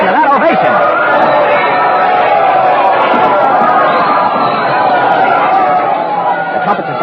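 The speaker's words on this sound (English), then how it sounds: "The crowd has seen her. They're cheering. Listen to that ovation." Large outdoor crowd greeting Queen Elizabeth I after Drake's victory over the Spanish Armada, a loud, dense, continuous roar of many voices that holds steady the whole time.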